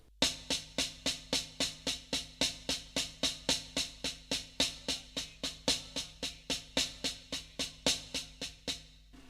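A steady, quick drum rudiment pattern of two paradiddles played together rings out alone, crisp even strokes repeating in a continuous rhythm at close range.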